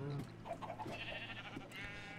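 Minecraft sheep bleating a few times, faint wavering baas over quiet game background with a voice briefly present.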